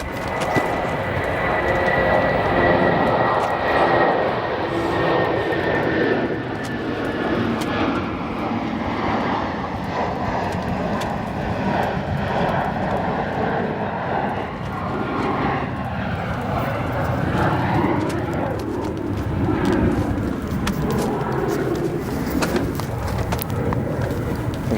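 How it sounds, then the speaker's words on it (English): Jet airliners, including a Lufthansa jet and a Boeing 787-10, roar at O'Hare Airport with a loud, sustained engine rumble and whine that slowly shifts in pitch, while a commentator talks over it. "we have a 787 cleared for takeoff"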